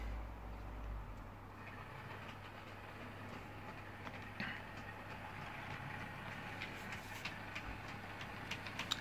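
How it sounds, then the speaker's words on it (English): A Bachmann DMU model train runs on a Hornby shunting layout, giving a steady low rolling hum with faint clicks from the track throughout, fairly quiet and with no talk. "now we'll have the DMU out to come and play."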